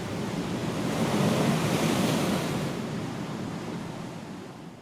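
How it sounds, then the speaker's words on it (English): Atlantic Ocean surf crashes and rolls against a rocky southern African shore, a loud continuous roar of waves and spray that swells and then slowly eases, with wind and no voices. "The Atlantic Ocean shows its might, casting its spray and froth against the shore"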